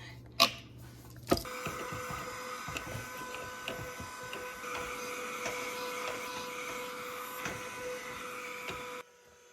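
A Brigii mini handheld vacuum sucks debris out of a trash can. A couple of sharp clicks start a steady, close, high whine with small rattles, and it cuts off abruptly near the end.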